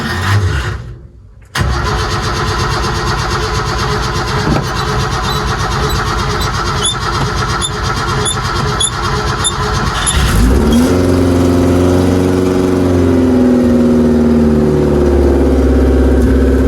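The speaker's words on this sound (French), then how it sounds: "je vais le démarrer en extérieur pour pas qu'il y ait trop de fumée dans le garage" A Suzuki Samurai engine cranks outdoors after two months of sitting, catches, and settles into a loud, steady run that rises in a strong rev near the end, close to the listener.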